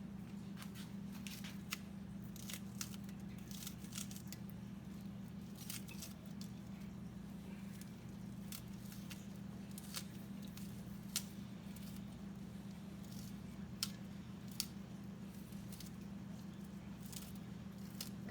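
Kitchen scissors snipping washed scallion into pieces for Jamaican gungo peas and rice, a quiet, irregular run of crisp snips over a steady low hum.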